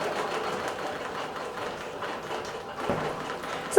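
A computerized quilting machine stitches steadily across a quilt, a continuous rapid mechanical whir and clatter heard alone, close and even throughout.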